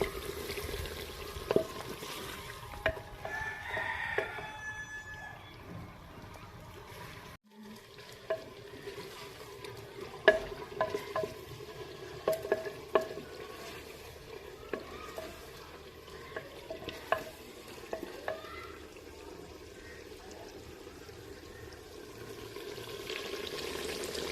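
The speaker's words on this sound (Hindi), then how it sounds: "थोड़ी देर के लिए इनको अच्छे से हम भून लेंगे" Soft, steady sizzling of tomatoes, garlic ginger paste and green chillies frying in a pan, with occasional stirring clinks and scrapes, close by and fairly quiet.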